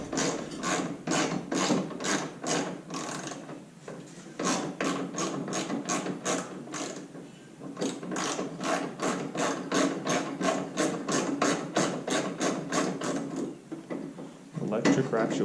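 Hand ratchet undoing 10 mm bolts on the headlight trim of a third-generation Toyota 4Runner, a steady run of rapid, close clicking bursts repeated in quick strokes with brief pauses between sets.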